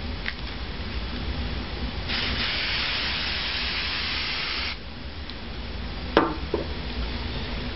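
Detect 4 drug aerosol sprayed onto a test strip pulled from a blue paper dispenser: one steady, fairly faint hiss lasting about two and a half seconds, then a brief click and rustle.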